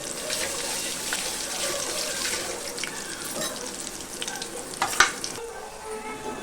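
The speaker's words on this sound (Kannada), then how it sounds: "ಒಂದು ಸ್ವಲ್ಪ ಖಾರ ಪುಡಿ ಇದ್ರಾಗ ಹಾಕೊಂಡು ಎಣ್ಣೆ ಒಳಗೆ ಹಾಕಿದ್ರೆ" Chili powder and curry leaves sizzle in hot oil while a curry is cooked for a festival meal, giving a steady frying hiss with a brief louder crackle burst midway.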